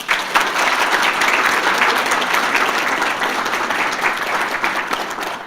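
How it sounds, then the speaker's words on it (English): Audience applause at a Phi Theta Kappa induction ceremony, a loud, steady wash of many hands clapping together for the full stretch, close and sustained with no talk over it. "Let's give them a round of applause."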